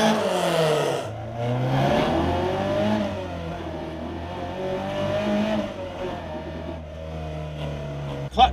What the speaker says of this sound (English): if in doubt, do a burnout.